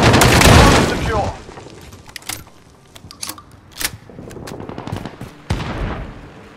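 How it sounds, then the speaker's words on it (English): Ship turret firing in the Call of Duty Modern Warfare video game, a heavy opening burst followed by scattered sharp shots and booms of varying loudness, with sparse gaps between them. "Friendly ship turret deployed."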